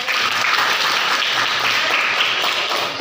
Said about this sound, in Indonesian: Iya, tepuk tangan buat kita.